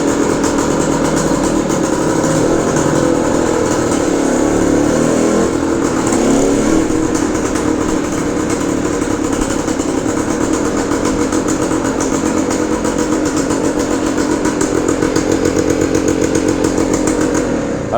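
A 1970 Yamaha DT1 250 two-stroke motorcycle engine runs indoors, a loud, steady buzzing idle with light throttle blips, close up and continuous throughout.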